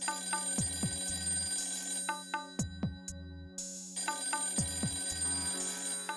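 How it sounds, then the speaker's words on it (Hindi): An old-style telephone bell rings indoors late at night in repeated double trills with brief gaps between rings, clear and moderately quiet, with no one speaking. "इतनी रात को किसका फोन हो सकता है?"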